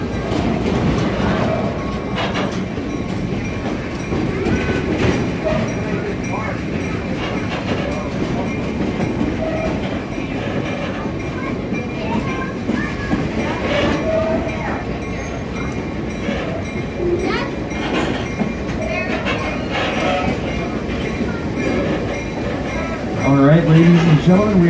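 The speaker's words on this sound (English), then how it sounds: "we are now slowly pulling back into the train depot and the end of our journey" A tourist train at Stone Mountain Park slowly pulling back into its depot, with steady rumbling, clickety-clack wheel noise and occasional metallic clinks throughout, under a conductor's talk on the loudspeaker.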